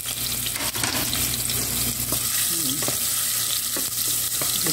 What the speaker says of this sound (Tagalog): Gisa na tayo ng bawang.